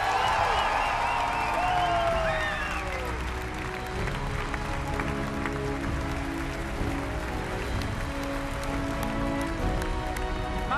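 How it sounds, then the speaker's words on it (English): A large audience applauds at the E3 2015 Fallout 4 gameplay presentation, with dense, steady clapping and crowd noise filling the hall. It starts loud and stays strong throughout, and a musical tone fades under it at the start. "can I please get another round of applause for that man?"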